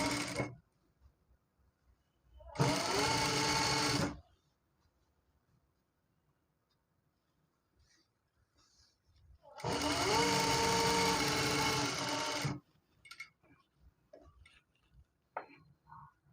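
Two short bursts of a sewing machine stitching folded cloth, each about one and a half to three seconds of fast, even whirring, separated by quiet gaps with faint handling clicks.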